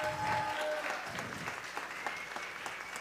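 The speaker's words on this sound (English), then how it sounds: "Now we can give a round of applause to our new board members." A room full of people claps steadily to welcome new board members at a Family Shabbat service, with a dense, even round of applause lasting throughout.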